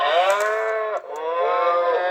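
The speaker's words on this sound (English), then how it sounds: "the more the car moves, the more noise the cows make" Cows mooing, two long, loud, close lowing calls back to back with a brief break between them.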